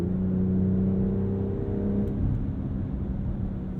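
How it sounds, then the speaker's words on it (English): A 2022 BMW X3 M40i's exhaust gives a low, steady rumbling burble on overrun, with engine drone continuing loudly and closely throughout. "there's like a low burble from that exhaust with the overrun"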